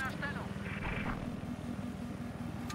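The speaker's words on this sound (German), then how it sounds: "Warte, feindlicher Heli." An enemy helicopter in the Battlefield 4 multiplayer game drones steadily through the mix, a continuous low rotor hum with faint in-game noise layered above it.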